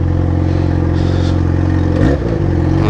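A Yamaha XJ6 motorcycle with a straight-pipe exhaust revs loudly and close outside a college, holding a raw, buzzy drone before a sharp throttle blip near the end.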